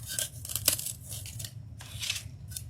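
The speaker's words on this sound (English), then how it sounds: "I am going to cut some of it off" A block of styrofoam being cut by hand for a holiday tobacco basket craft, giving close, squeaky scraping and tearing strokes in a steady run with a sharp snap partway through.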